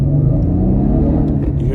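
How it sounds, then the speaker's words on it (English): Chevrolet Camaro engine accelerating on a road with traffic ahead, a steady loud low rumble holding throughout with a faint rise in revs, close and continuous. "I'll do a little acceleration, let the cars in front of me go a bit, but it sounds really nice."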